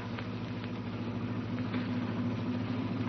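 A steady rumbling engine from an old jalopy car runs throughout, moderately loud and unbroken.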